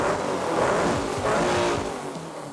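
A Jeepster Commando off-road racer with a dual 3-inch exhaust and X pipe, the engine rumbling and surging up and down in revs, loud and close with no voices.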